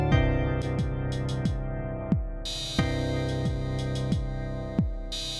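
An Elektron Model:Cycles drum loop through a Universal Audio MAX stereo compressor plays punchy low kicks with crisp hats and noise bursts in a steady repeating groove, slightly quieter and tightly squashed.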